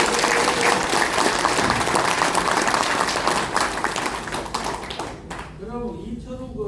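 Crowd applause at a traditional market meeting in Daegu's Seomun Market, dense steady clapping from many people that thins and fades near the end as a voice begins speaking.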